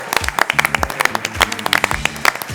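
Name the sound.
audience applause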